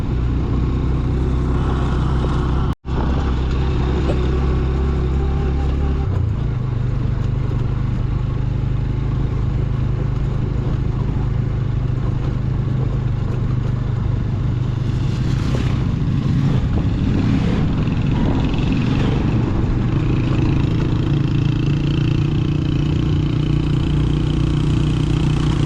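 Big motorcycles passing on a mountain road in rain, a loud continuous engine rumble that swells as bikes go by, with a sharp brief knock early on and no talk.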